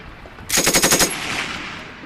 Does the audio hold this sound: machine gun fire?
yes